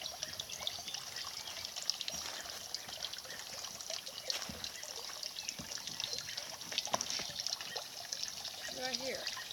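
A small solar-powered mini pump pushes water through a hose, giving a faint continuous trickling and dribbling with a speaking voice faintly present.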